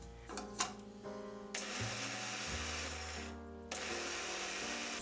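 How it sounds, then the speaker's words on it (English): An electric coffee grinder whirs as it grinds oats. It starts with a few short bursts, then runs loud and steady, breaks off briefly and starts up again. "grind your oats until you're happy with the consistency"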